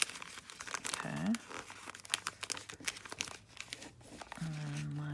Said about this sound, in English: let's go ahead and do the corners here. Your bone folder comes in handy.